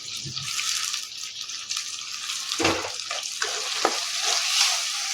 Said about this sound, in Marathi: त्यानंतर टमाटर, ते पण छान मॅश होऊस्तर तळून घ्यायचं.